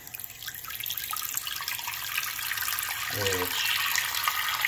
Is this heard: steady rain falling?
no